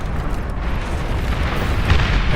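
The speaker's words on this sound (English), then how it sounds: "Synchronized explosions there, that was kind of funny." Synchronized explosions in the real-time strategy game Beyond All Reason, a loud, dense rumbling burst of blasts that fills the whole clip with low booming and crackling.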